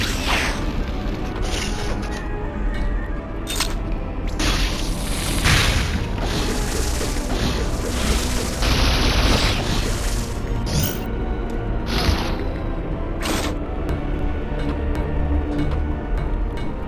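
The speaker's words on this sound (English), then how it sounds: "It's a sexy party. With lots of power bombs." Power bombs go off in Metroid: Samus Returns as a run of loud, booming blasts that crash and whoosh one after another over a constant, dense rumble.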